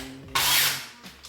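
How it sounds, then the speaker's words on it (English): A power drill fitted with a 5.5mm bit grinds glue out of a golf club shaft in a short, close burst of rough whirring that quickly fades, with no talking. "carefully I'm going to put this into drill this into that glue there, and then we're going to work it around."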